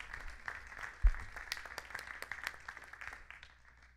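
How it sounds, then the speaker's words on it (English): Audience applause fills a school board meeting room, a steady patter of many hands clapping for about four seconds with a brief louder thump near the start, fading slightly toward the end. "I would like us all to stand up and give them a round of applause"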